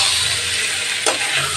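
Boiled potatoes drop into spice masala frying in a pan for a fish jhal, giving a brief soft thud and splatter over a steady close sizzle.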